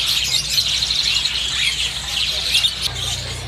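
Canaries, including loper canaries, chirp in a bird kiosk in a shop setting, giving a steady bright twittering that runs through the whole moment, with a low background hum and a voice speaking now and then.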